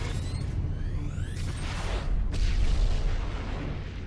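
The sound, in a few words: explosion in TV show The 100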